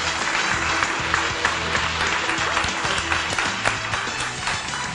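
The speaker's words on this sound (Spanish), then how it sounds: "¡Fuerte el aplauso!" Enthusiastic applause from a studio audience at a Spanish TV music show after a singer's tribute performance, loud continuous clapping mixed with background music.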